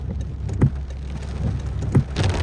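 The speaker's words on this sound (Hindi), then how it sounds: "सड़कों पे पानी भर गया है क्योंकि बारिश माशाअल्लाह बहुत ही बेहतरीन हो रही है" Heavy rain pouring down in Makkah, a dense steady hiss of drops on the ground and flooded streets, with a few louder splashes or thumps standing out from the downpour.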